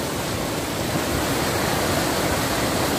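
Storm rainwater rises and pours over the edge of a pond in Ajanta town during heavy rain, a loud, continuous rushing roar like a small waterfall, with no break and no voices.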